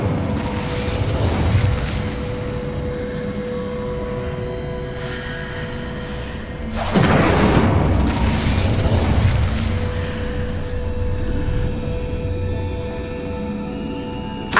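Incendio fire spell cast in the PS5 game Hogwarts Legacy, heard as a loud burst of fiery whoosh midway through over a steady layer of game ambience and music.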